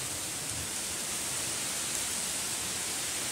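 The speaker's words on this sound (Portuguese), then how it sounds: "Olha a chuva, que delícia." Heavy rain in a windstorm roars as steady broadband noise during a seaside storm, heard from aboard a bus, constant and loud with no clear breaks or voices.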